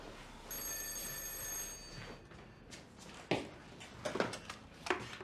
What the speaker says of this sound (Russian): это дочка моя звонит